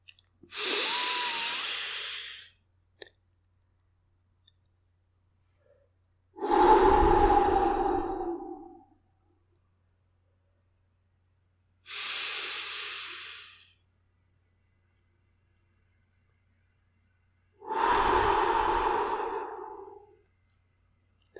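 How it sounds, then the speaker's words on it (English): Four slow, audible breaths, two long airy inhales through the nose and two fuller exhales out through the mouth, each lasting a couple of seconds, separated by quiet pauses, heard up close during a calm meditation. "take some more calm breaths in through your nose and out through your mouth"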